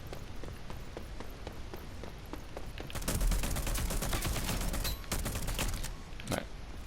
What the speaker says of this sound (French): Je vais prendre la petite mitraillette pour changer un peu.